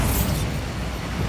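A Bombarda explosion spell in Hogwarts Legacy: a loud, dense, rumbling blast that fills the short clip, with a bright burst at the start that settles into a sustained low roar.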